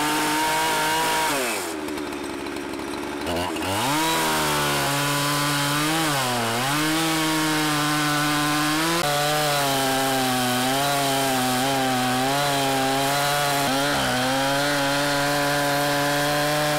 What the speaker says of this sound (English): he's waiting with a chainsaw, so I'm going to stop talking and show you